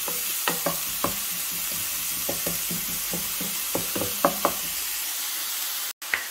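A mashed mixture cooks in a pan, a soft steady sizzle under repeated utensil knocks and stirring scrapes against the pan, fairly close and without talk.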